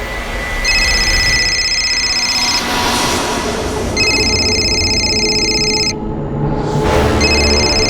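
A telephone rings in repeated electronic bursts, each lasting about two seconds with short gaps between them, loud and close, over a steady background bed of music or ambience.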